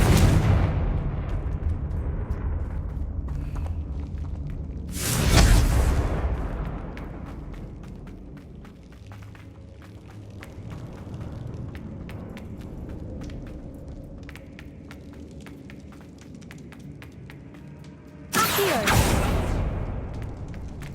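Confringo fire spells cast in Hogwarts Legacy set off two loud booming explosions, one at the start and another later, with quieter rumbling and crackling game ambience between.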